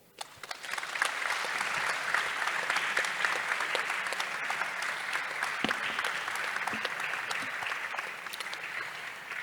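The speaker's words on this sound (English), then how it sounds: "Another round of applause, please, for His Excellency as he takes his seat." A seated conference audience at the CIoD Nigeria annual directors' gathering applauds for His Excellency, producing a steady, dense round of clapping heard close and sustained for several seconds, with no speech over it.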